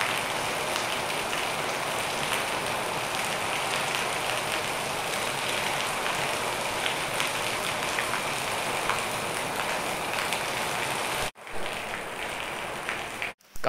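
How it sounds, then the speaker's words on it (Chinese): A heavy rainstorm over a village in Henan, China, pours down as a dense, steady roar of rain on surfaces, constant and loud for most of the stretch before it briefly cuts out and returns. "看这会儿的雨下得多大"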